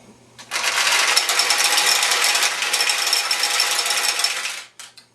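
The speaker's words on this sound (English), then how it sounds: "To release them, you pull this lever over to the left, and they'll flow down into your receiving tray." Metal pachinko balls pour from a Nishijin pachinko machine into the receiving tray after a lever is pulled, a loud, dense rattling cascade lasting about four seconds before it trickles out, with a few last clicks.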